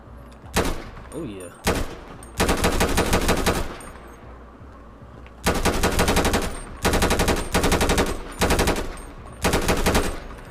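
Modded video game AR rifle fire rattles out in loud full-auto bursts, several long strings separated by short pauses, with a voice briefly heard between them.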